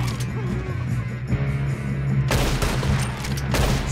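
Rapid bursts of gunfire in a train robbery in Red Dead Redemption 2 crackle loudly, with a fusillade breaking out partway through, while a voice speaks faintly underneath.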